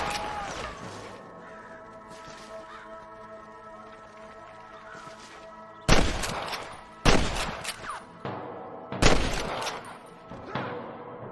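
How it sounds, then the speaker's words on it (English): A few sharp gunshots crack out in quick bursts over a steady tonal backdrop in Red Dead Redemption, after a stretch of quieter ambience with no shots. "I can hear more gunshots."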